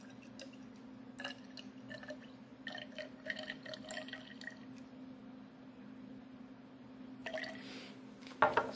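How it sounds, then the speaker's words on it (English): Water trickles and drips softly into a measuring cylinder in a physics lab, a quiet intermittent pouring with small splashes, ending in a brief louder splash. "So I'll pour another 15 ml."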